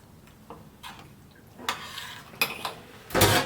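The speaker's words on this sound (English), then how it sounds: "Keep stirring as it thickens up." Spoon scraping and clinking against a pot while stirring a thickening seafood sauce with lemon, a series of irregular metallic taps and scrapes, close and fairly quiet, ending in a louder scrape.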